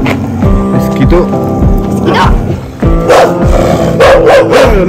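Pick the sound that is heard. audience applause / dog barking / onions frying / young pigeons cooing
dog barking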